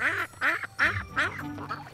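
Ducks quacking outdoors on a cold winter day, a quick series of five loud, nasal quacks close by, rhythmic and unmasked by talk.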